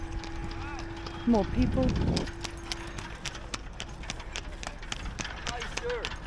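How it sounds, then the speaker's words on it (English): Horses walking on pavement near the Giza pyramids at a busy morning tourist site, steady clip-clop hoofbeats close by, joined by other traffic and a brief tonal hum, while people talk throughout. "More horses are rolling in, buses,"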